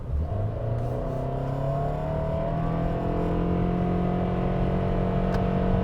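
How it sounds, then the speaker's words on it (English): A 2024 Toyota Sienna minivan accelerates hard while merging onto a highway, its engine droning loud and steady with rising, layered tones throughout. "Insert the clip of Dylan merging onto the highway here"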